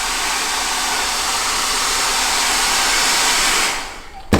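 A heat gun blows hot air onto a rubber battery boot, giving a steady, loud broadband whoosh that holds for nearly four seconds before cutting off, followed by a brief clunk.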